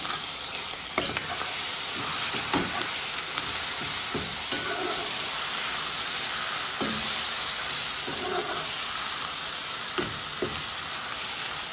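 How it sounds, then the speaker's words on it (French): Liver pâté fries with onions and a sprig of thyme in a pan, a loud, dense, continuous sizzle broken by occasional scraping stirs. "Je le laisse bien revenir ensemble, essayer de bien roussir avec les oignons"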